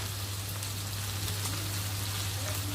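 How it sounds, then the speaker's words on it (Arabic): Okra sautéing in a home kitchen pan, a steady soft sizzle and crackle under a constant low hum, with no talk over it. "وهشوحها كده مع الباميه قبل ما انزل بالصلصه"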